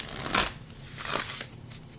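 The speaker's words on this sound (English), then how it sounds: "Let's get another shuffle for group 6." Tarot cards shuffled by hand during a card reading: three short papery riffling bursts, the first strongest, close and clear over a quiet room with no talking.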